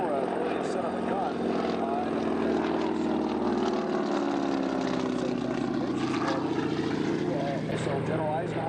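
A T-6 propeller plane flies past at a military airshow, its steady engine drone and prop buzz loud and continuous, with a commentator talking over it throughout.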